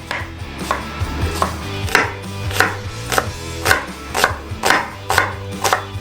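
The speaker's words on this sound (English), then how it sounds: "we chop the quarter into rings" A knife chops a quarter of red onion into rings on a cutting board, giving about a dozen crisp, evenly spaced, close-up knocks over quiet background with no talk.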